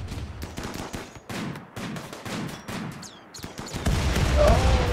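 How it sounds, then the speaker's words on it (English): Hellfire rockets and heavy weapons firing during a siege battle in the RimWorld video game: a rapid series of sharp bursts and blasts with a rumbling low end, growing louder and denser toward the end. "Oh, those Hellfire rockets."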